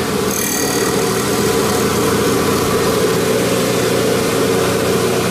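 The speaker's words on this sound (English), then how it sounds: "This is a big ass grinding wheel on this thing." A large grinding wheel on an Abrasive Machine Tool Co. Model 3B surface grinder spins steadily, giving a loud, even mechanical whine and hum with no voices.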